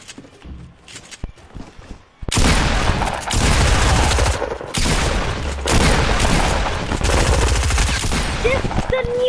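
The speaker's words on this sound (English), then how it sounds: "This is the new SMG's trash! You missed all your shots!" A submachine gun fires in a video game, with rapid bursts and booms that come in loud and close after a quieter opening, broken by brief pauses and overlaid with game sounds.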